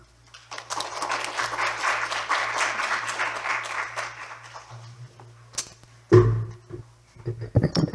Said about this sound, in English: Please welcome him with loud applause.